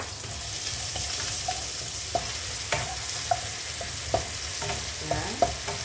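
Shallots sizzle in hot oil in a pan while a utensil stirs them, giving a constant frying hiss broken by sharp scraping clacks every half second or so, close and fairly loud with no talk.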